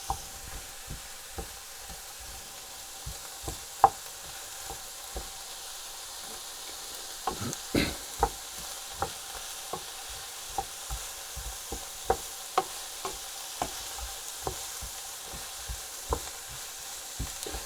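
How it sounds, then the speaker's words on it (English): Softening onions in a pan are stirred with a utensil, giving regular scraping knocks against the pan every second or so over a faint, steady sizzle, close by and without talk. "Just keep stirring around."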